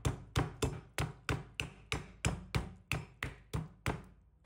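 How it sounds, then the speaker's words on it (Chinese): The back of a kitchen knife pounds raw chicken carcass bones on a board: about eleven firm, evenly spaced thuds in a steady rhythm, close and alone, fading slightly at the end. "再用刀背敲打几下，像这样把骨头敲打，尽量敲碎一点。"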